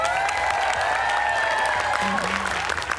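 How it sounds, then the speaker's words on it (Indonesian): Studio audience applauding as a guest, a physics tutor, is welcomed on an Indonesian TV quiz show; steady, dense clapping fills the stretch, with a voice and some tonal sound riding over it. "Tepuk tangan untuk Pak Cecep."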